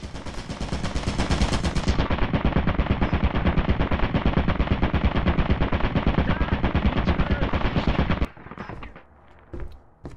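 A turret in Lethal Company fires a loud, unbroken burst of rapid automatic gunfire for about eight seconds, then cuts off abruptly and leaves a few faint scattered sounds.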